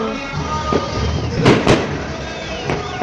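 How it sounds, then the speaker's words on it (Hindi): Firecrackers burst during New Year celebrations, with a few sharp, loud cracks, two in quick succession and then another, over a steady wash of background music and crowd noise. "ये पटाखे की आवाज़ मुझे बहुत अच्छी लगती है"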